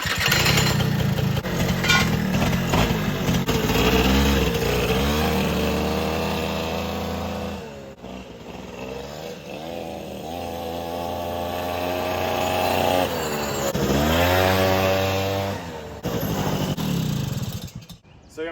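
Small engine of a Suzuki Quadsport LT80 ATV running on a ride after being freed from a stuck condition, buzzing close and loud with revs rising and falling in several swells before cutting off.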